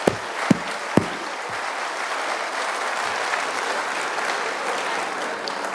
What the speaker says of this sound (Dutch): Graag aan David het applaus.